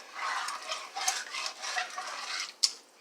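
A spoon scraping and stirring across the bottom of a pan of cooking chili, soft steady rasping strokes close by, ending with a brief sharp clink of metal.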